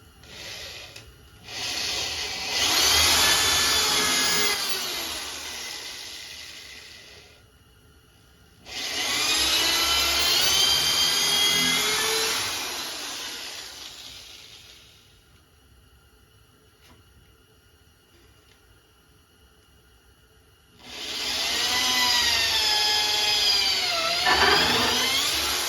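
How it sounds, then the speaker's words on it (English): A power drill bores through a big wood knot in a small trailer frame build, coming in three loud sustained whining runs with rising pitch, separated by quiet pauses. "We're drilling through a big knot there."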